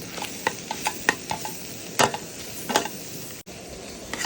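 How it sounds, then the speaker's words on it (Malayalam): Masala stirred in a pan during roadside cooking on a truck journey, a spatula scraping and tapping the pan in irregular strokes over a low sizzle. "മസാല ഇളക്കിയിട്ട് അടി പിടിക്കുന്നൊരു ഘട്ടം വരെ നോക്കണം."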